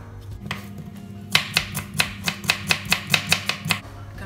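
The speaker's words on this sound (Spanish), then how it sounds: "Cortamos también fina la cebolla." Knife slicing an onion thinly on a board, a rapid run of about a dozen crisp, evenly spaced chops close by, with no talking.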